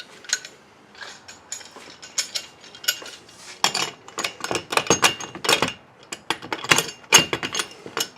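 A socket wrench ratchets in quick bursts of close, crisp clicks while tightening nuts on roof rack cross bars of a Jeep Wrangler JL, with short pauses between strokes and no talking.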